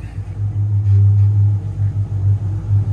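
A Chevrolet LSX376 B15 engine with a Whipple supercharger idles on a dyno, a steady deep low rumble holding even for a few seconds, fairly loud and close.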